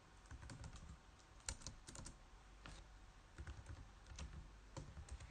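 Typing on a computer keyboard while writing HTML code, with irregular clusters of quiet key clicks and taps, close and alone.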